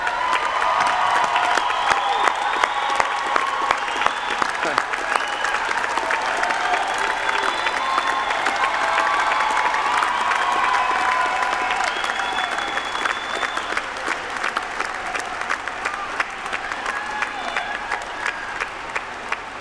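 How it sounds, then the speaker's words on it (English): Sustained applause from a large audience fills a graduation convocation hall, dense and steady for the full stretch with a few cheers mixed in, tapering slightly toward the end. "You hear the applause from the back of the room."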